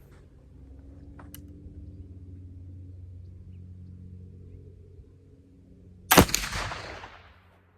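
A single flintlock gun shot goes off as one sharp, loud crack that decays quickly, preceded by several seconds of low rumbling background.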